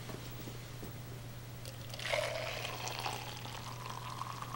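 Boiling water at about 203 degrees is poured into a thermos, a steady splashing rush that begins about halfway through and runs to the end, close and moderately loud over a constant low electrical hum.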